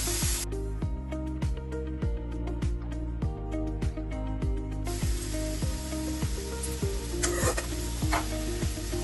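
A spatula scrapes rhythmically through aloo soyabean sabzi frying with Maggi masala in a pan, steady stirring strokes over a constant loud sizzle.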